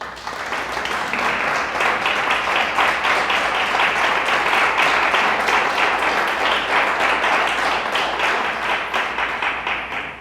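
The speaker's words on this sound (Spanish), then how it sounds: "Denle un aplauso a Dios." A church congregation claps together in a dense, sustained burst of applause lasting about ten seconds, swelling quickly and holding steady before tapering at the end.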